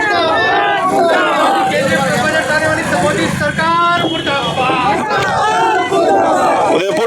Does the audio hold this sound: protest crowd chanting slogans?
yes